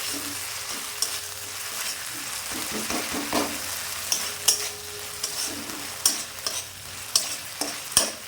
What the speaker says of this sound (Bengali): যতক্ষণ না মশলাটা ভাজা হবে নেড়ে নেব, যাতে না কড়াই ধরে যায়।